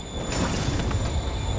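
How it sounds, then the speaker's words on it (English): A moving train in the Marvel's Spider-Man game gives a loud, dense rumble of rolling wheels and rail noise that runs through the short stretch, with a faint high whine above it. "Train's moving. Lee's getting away."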